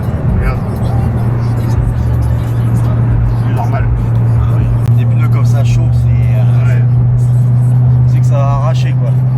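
A Corvette C7 Z06 with the Z07 pack (659 hp) accelerating hard from standstill to 100 km/h, its engine a loud, steady, deep roar heard from the cabin the whole way, with a few faint voices beneath.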